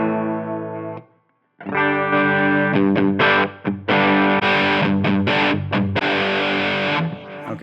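Distorted electric guitar played through a Line 6 Helix German Mahadeva amp model, modelled on a Bogner Shiva: a sustained chord, a brief gap, then loud chugging riffs with sharp stops and ringing chords, alone.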